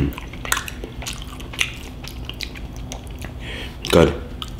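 Close, wet chewing and slurping of spicy Spam and Korean cold noodles, soft squishy bites and drips at varying intervals with one louder burst near the end.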